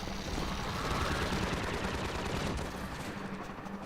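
A gunship in the Half-Life 2 video game fires a dense, loud burst of rapid gunfire that roars continuously for several seconds, then eases slightly toward the end.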